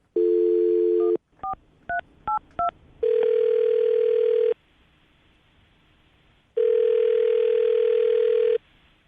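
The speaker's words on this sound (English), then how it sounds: "I'm going to dial the phone number right now" A landline telephone sounds a steady dial tone, then a quick run of four touch-tone beeps, followed by two long ringback tones separated by a quiet pause, all loud and clear with no talking.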